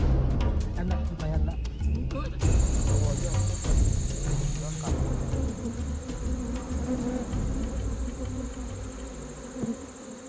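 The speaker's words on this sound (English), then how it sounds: "harvesters use smoke sticks to distract the angry bees" A dense, loud buzzing of a swarm of angry wild giant honeybees fills the air continuously during a honey harvest with smoke sticks, with faint murmuring voices underneath.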